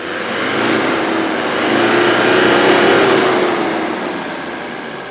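Mercedes 300D diesel engine idling smoothly after a diesel purge, a steady close mechanical rumble with a gentle swell in the middle, no talking.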